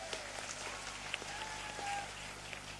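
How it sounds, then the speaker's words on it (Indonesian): Faint, distant audience applause at a humorous religious lecture, a soft continuous patter of clapping with a low hum beneath it. "Tepuk tangan sik rawowo."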